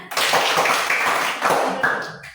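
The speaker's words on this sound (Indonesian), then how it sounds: "Semua tepuk tangan." A group of students in a classroom clap together, a dense burst of handclaps filling the clip, briefly easing and then swelling again toward the end.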